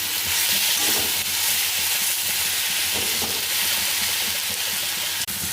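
Tomato and onion sauté with rock salt in a pan for thakkali chutney, giving a loud, dense, continuous hiss of sizzling close by that barely changes, ending with one sharp clack.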